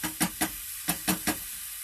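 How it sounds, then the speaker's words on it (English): Tomatoes cooking down in a pan for tomato and eggs, a steady hiss with six short scraping or bubbling bursts in uneven rhythm, close and fairly quiet. "These tomatoes are cooking down real good"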